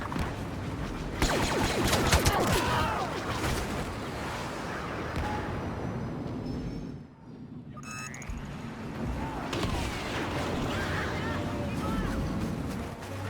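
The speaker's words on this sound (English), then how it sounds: "Rebel airstrike incoming." Rebel airstrike explosions in Star Wars Battlefront rumble and roar through a busy battlefield around an AT-AT, with booming blasts and mechanical noise. A brief quiet moment comes midway, followed by a sci-fi laser sweep.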